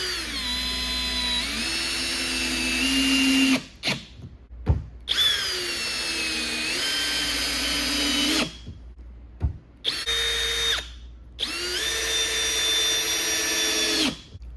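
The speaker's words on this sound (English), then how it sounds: "When driving fasteners with a more powerful drill." A power drill whines in four long bursts with short pauses between, its pitch shifting as screws drive in, close and loud.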